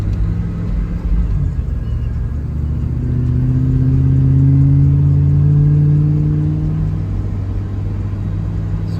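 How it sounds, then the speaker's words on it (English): A 1994 Chevrolet Silverado pickup truck drives along with a steady low engine rumble, its pitch rising in a smooth glide midway before settling back, with no talk over it. "I just started driving it, and it does feel a lot smoother"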